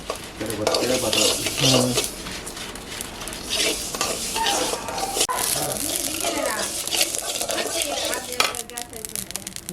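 Cumin and mustard seeds sizzle in oil while being stirred, with scraping, clinking utensil sounds against the pan and speech running over much of it.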